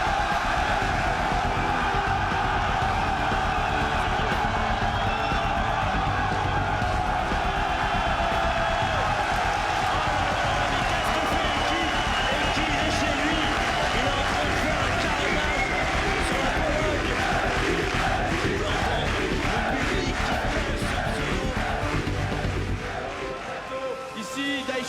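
Large esports tournament crowd in Paris cheering and roaring continuously, a dense sustained wall of voices and whoops that stays loud throughout before easing slightly at the very end.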